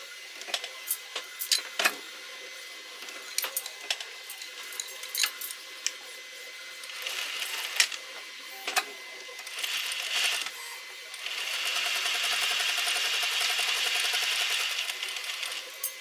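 A home sewing machine stitches a twilly-style purse charm for a Coach Rogue bag, with scattered clicks and taps from handling, then a steady whirring run of stitching that lasts several seconds before stopping.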